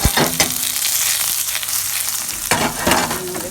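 Garlic fries in a very hot pot for garlic conch, a loud continuous sizzle with stirring scrapes and a fresh burst of crackling near the end.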